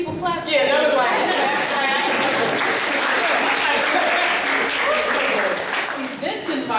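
An audience at a poetry reading in an art gallery applauds, steady clapping that holds for several seconds, with a few voices and cheers mixed in.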